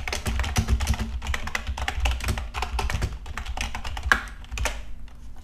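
Text goes into Notepad through rapid, continuous keystrokes on a computer keyboard, close and clear, with a steady low hum beneath.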